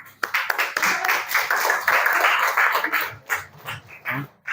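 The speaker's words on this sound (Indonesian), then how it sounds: "kita kasih aplaus dulu untuk kelompok 1" Classroom audience applauding a student group after their presentation, a dense burst of hand clapping that rises quickly, holds steady, then thins into scattered claps and fades.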